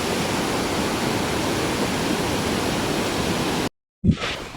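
A waterfall roars as a dense, steady wash of rushing water, then cuts off abruptly and is followed by a short thump and rumble.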